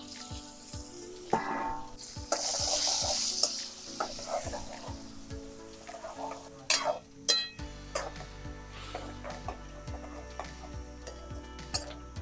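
Stuffed gunda frying in hot oil with mustard seeds, cumin and asafoetida, a steady close sizzle with popping crackles, a loud hiss as ingredients hit the pan, and repeated spoon clinks while stirring.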